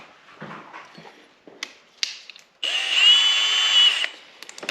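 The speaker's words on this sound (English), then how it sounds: "I'm going to go with a smaller drill bit first." A power drill bores a hole while a heated visor plug is installed on a Ski-Doo Rev MXZ 550F snowmobile; after a few soft clicks and taps, a close, loud whining burst of drilling lasts about one and a half seconds.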